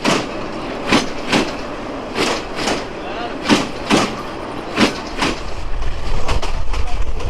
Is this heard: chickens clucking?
no